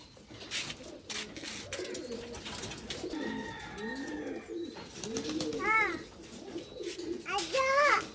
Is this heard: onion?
no